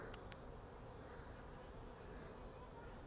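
Robber honey bees buzzing around the top and entrance of a beehive, a continuous faint droning hum from many insects close by, with no talking.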